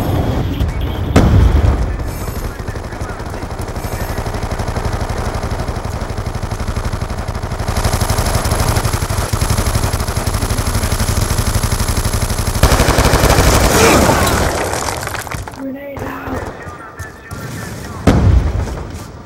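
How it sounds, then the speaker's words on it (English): Missile explosions and sustained gunfire in a Black Ops 2 multiplayer match, dense loud continuous rattling and booms throughout, with a heavy blast near the end and brief quiet gaps before the final impacts. "Friendly Hellstorm missile inbound."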